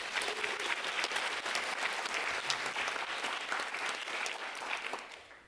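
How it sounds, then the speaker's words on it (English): An audience at a domestic work conference panel claps steadily for several seconds, a dense, even patter of many hands that fades at the end. "Clap now."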